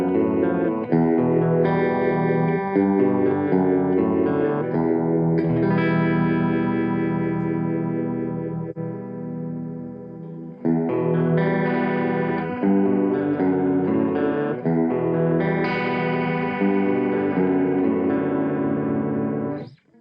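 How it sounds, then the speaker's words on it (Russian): Electric guitar played through a Blackstar ID:Core v3 stereo combo amp with a modulation effect, sustained chords and picked notes shimmering with chorus-like wobble and reverb, loud and alone with no talk. "Просто чистый звук — это скучно, поэтому добавим модуляции"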